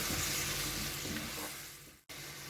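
Onions sizzle and fry in hot oil for a roadside-style salna gravy, a continuous crackling hiss that holds steady, then briefly cuts out near the end before resuming.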